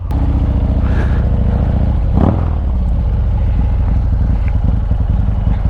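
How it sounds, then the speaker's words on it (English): A motorcycle engine running loud and close at a gas station, a continuous low rumble with a brief surge in the middle as the bike pulls away, no talk over it. "All right, so we got the bike started. Let's get on the road and go."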